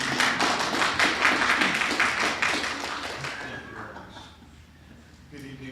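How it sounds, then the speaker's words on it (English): Applause from an audience at a school board meeting, a dense steady clapping that fades over several seconds, followed by quiet room sound and faint stray noises. "our Chief Financial Officer, Mr. Ken Hicks, to an even bigger round of applause."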